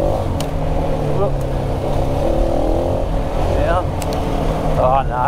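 A Husqvarna motorcycle on a rocky, rooty trail, its engine droning continuously up close with small rev changes, while a rider talks over it throughout.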